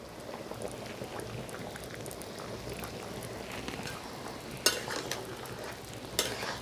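Chicken curry sizzling gently in a pan as a utensil stirs it, a soft steady bubbling crackle with faint scraping and a couple of sharper clinks, quiet and close, no talking.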